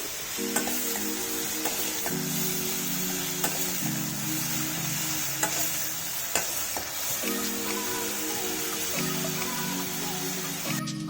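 Cashew nut paste for mushroom gravy fries in a pan with a steady close sizzle, while a spoon stirs and scrapes intermittently and a faint tonal hum runs underneath.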